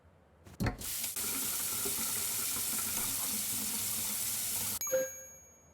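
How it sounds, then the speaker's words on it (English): A sink tap is turned on with the drain plugged, and water gushes steadily into the basin for about four seconds before it stops, followed by a clear ding. "Place it into the drain and turn on the tap."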